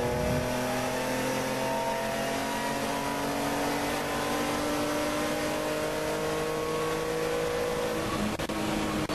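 A touring car racing engine holds a steady, loud drone through track corners on a road course, the pitch shifting slightly as it pulls through the bends, with no voices.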